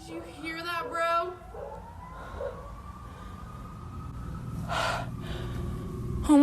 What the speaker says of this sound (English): Right when she came out, she heard sirens.